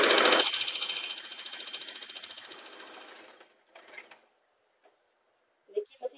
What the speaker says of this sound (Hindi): तो देखिए मशीन पर सिलाई हो रही है आसानी से।